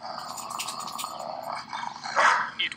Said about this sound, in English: Her microphone picked up the sound of your dog panting.